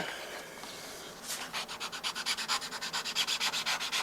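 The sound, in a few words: sanding brass with sandpaper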